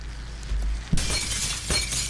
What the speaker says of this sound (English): Breaking the glass like you own it.